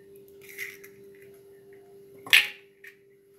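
Eggs cracked into a wide-mouthed bowl while making French toast in a home kitchen: soft taps, then one sharp crack and splat near the end, close and clear over a quiet hum.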